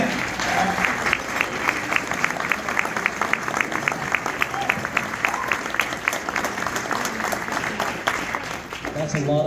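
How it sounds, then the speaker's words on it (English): An audience applauds in honor of the Marine Corps' 250th birthday at a Veterans Day event, with dense, sustained clapping throughout and a brief voice near the end. "Let's give them a hand."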